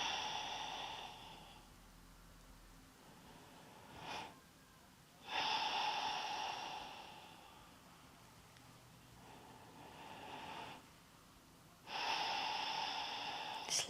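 Slow, deep yoga breaths taken close to the microphone, airy inhales and exhales in long cycles of a few seconds each, with no other sound between them.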